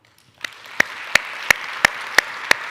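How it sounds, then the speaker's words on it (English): An audience at an annual meeting applauds the board chair: a steady wash of clapping with sharp, louder claps from someone close by, evenly spaced about a third of a second apart. "Another round of applause for you."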